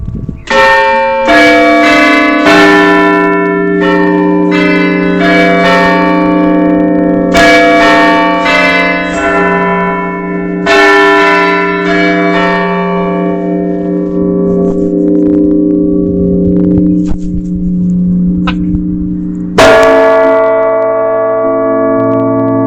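Church tower bells peal loudly and close, overlapping strikes ringing out in a rhythmic sequence with long sustained resonant hum between hits, then a fresh strong strike near the end.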